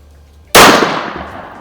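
A single sharp, loud report from a Savage B-Mag bolt-action rifle in .17 WSM at an outdoor range, followed by a short fading echo over a quiet background.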